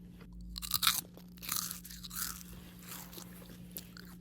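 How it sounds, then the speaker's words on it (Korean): A cake is bitten and chewed close up, with soft crunching and moist chewing over a steady low electrical hum. "키리씨 케이크 한 먹어보고 싶거든요."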